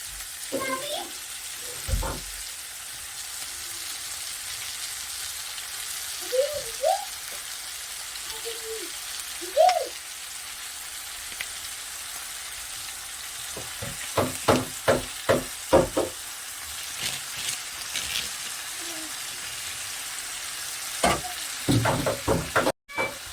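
Egg frying together with chow mein noodles in a pan at home, a steady sizzle throughout with scattered stirring clinks and scrapes, some sharper bursts of crackling near the end.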